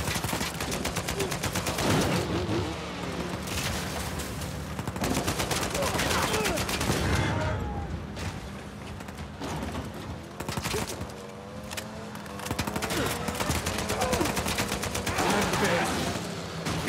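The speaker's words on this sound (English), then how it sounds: "Let me try to shoot the tires, like you said." Rapid gunfire from an Uncharted 4 gameplay firefight aimed at a vehicle's tires, bursts of shots repeating throughout over game ambience and engine rumble, with a voice talking over parts of it.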